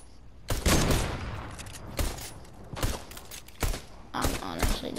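Fortnite gunfire in a solo match comes as repeated bursts of shots, loud and close, with a steady in-game background between the volleys.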